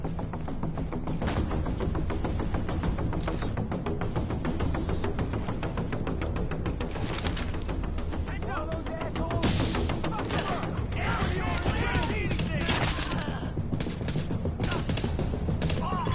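Dense, continuous gunfire fills a battle in Tom Clancy's The Division, with rapid automatic bursts, crashes and thuds, and occasional speech cutting through the shooting.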